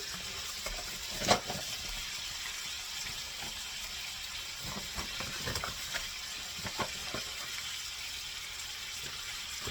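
Flour stirred into sausage in a hot pan, a soft steady sizzle with intermittent scraping and clicking of the utensil, close but fairly quiet, no talking.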